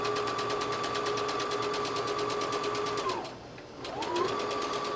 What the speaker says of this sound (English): we're going to zigzag right along the edge to finish those seams